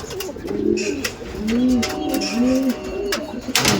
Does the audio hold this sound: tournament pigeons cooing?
yes